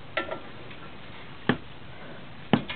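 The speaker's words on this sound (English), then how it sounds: "So the torque wrench puts a specific amount of torque on the bolt." A torque wrench clicks while tightening the brake housing of a Range Rover, three sharp separate clicks spread about a second apart, close and distinct over a quiet background.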